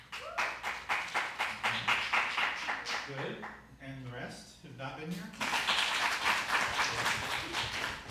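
A crowd claps together in rhythmic bursts, fading out while a person speaks, then the applause picks up again and continues to the end.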